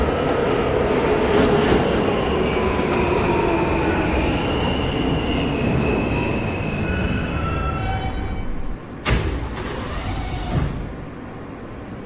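An R160A G subway train in a Roblox game rumbles along the IND Crosstown Line toward Court Square, loud and continuous, with squealing wheel tones sliding in pitch and a sudden sharp shift in the noise near the end.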